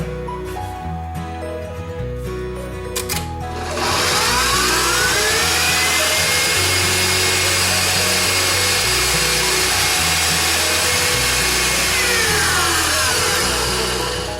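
An electric mixer whips homemade essential oil lotion in a bowl, starting after a few seconds with a loud steady whirring drone that holds with slight wobbles throughout, alone without talk.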